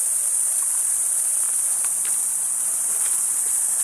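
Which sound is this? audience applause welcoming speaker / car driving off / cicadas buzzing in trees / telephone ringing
cicadas buzzing in trees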